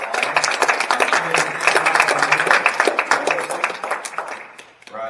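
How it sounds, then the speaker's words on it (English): An audience at a conservation and recreation talk gives Mike and his team a round of applause, steady close clapping from many hands that thins and fades toward the end. "let's give Mike and his team a round of applause"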